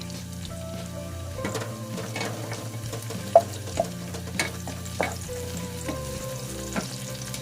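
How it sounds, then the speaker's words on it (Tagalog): Garlic sizzles steadily as it fries in a pan for a shrimp with oyster sauce dish, with occasional sharper pops and stirring clatters over a constant crackle, no talking. "i-golden brown mo lang muna natin guys yung garlic."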